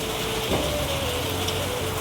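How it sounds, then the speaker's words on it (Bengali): Heavy rain falling in a steady, dense wash of noise that stays even throughout, with a faint engine-like hum low underneath and no voices. "আমাদের দিকটা তো হেভি সুন্দর বৃষ্টি হচ্ছে"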